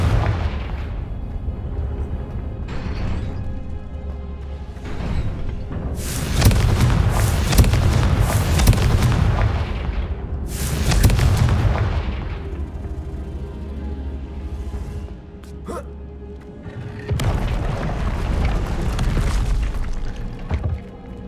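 Repeated Confringo fire-spell explosions in the Hogwarts Legacy video game, loud booming blasts with crackling bursts arriving in separate volleys over a low rumbling backdrop, each swelling then trailing off.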